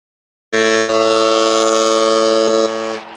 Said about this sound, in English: That's the sound of the foghorn,